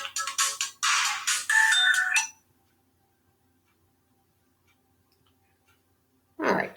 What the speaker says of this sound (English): All right, that's it. I'm turning this phone off.